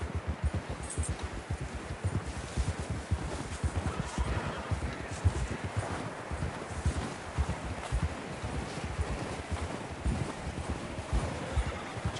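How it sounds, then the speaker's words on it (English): Horse hooves pound rapidly in a steady galloping rhythm in Red Dead Redemption 2, close and continuous, with wind rushing past throughout. "John was riding that horse when we left Blackwater."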